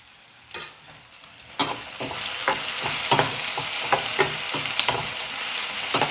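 Onions fry in a little oil in a pan, a close, steady sizzle that swells after a couple of seconds, broken by the clicks and scrapes of stirring, with no voices.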